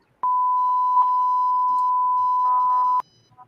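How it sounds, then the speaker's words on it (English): A censor bleep on a podcast: one long steady electronic tone of almost three seconds, loud and clean, with faint clicks at its start and end and a few brief warbles near the finish. "that beep sound effect for whenever I start, having to beep myself on my show and whatnot"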